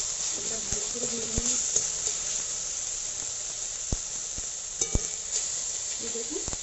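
Half-boiled taro leaves frying in a pan give a continuous soft sizzle and hiss, with a few sharp clicks and brief faint voice fragments in the background.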